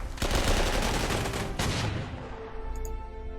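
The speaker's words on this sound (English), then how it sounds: "Oh, artillery." Artillery fire in the Panzer Corps wargame thunders out as two heavy blasts in quick succession, each a loud booming burst that rolls into a long decaying rumble, up close with no talk.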